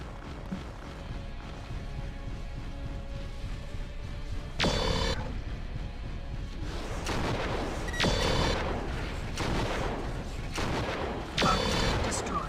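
Mech weapons fire and explosions in the game MechWarrior 4: Vengeance, a continuous rumbling barrage broken by several loud, broad booming blasts spaced a few seconds apart.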